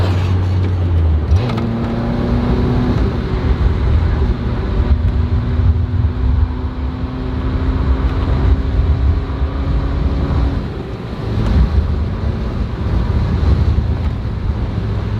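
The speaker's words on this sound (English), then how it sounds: "when you do drive it, you'll notice a little bit of chatter coming from the transmission" A Mazda Miata drives along with a steady engine drone and a faint rattling transmission chatter underneath, wind buffeting the cabin, close and fairly loud with a brief shift partway through.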